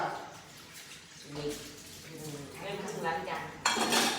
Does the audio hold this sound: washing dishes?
yes